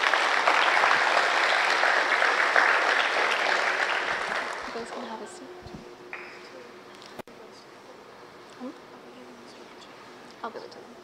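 An audience at a school awards and NJHS induction ceremony claps in a sustained burst of applause that fades out over several seconds into quiet room noise with a few scattered sounds.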